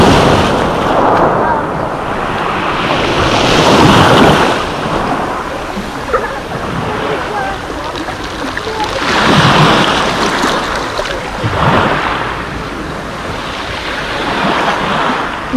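Small Black Sea waves at Lazarevskoye surge and wash onto the shore in repeated swells, loud and close, with heavy wind buffeting the microphone throughout.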